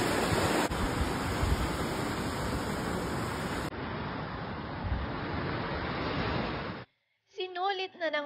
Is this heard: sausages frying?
no